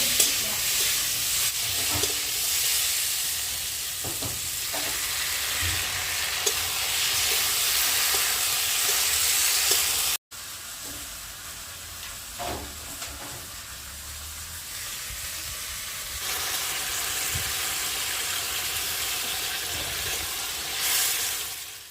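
Spice paste lightly frying in a pan, a broad steady sizzling hiss that cuts out briefly midway then resumes, with faint stirring scrapes and no voices.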